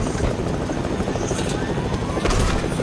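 Helicopter in a video game whirring steadily with a dense, continuous rotor and engine drone that stays loud throughout, with faint voices under it.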